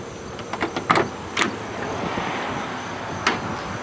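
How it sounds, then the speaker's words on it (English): The old door handle of a 1967 Buick Riviera is worked, producing a few sharp metallic clicks and clunks close up in the first second and a half, then a faint background hum with one more click near the end. "Oh yeah. The old school door handle."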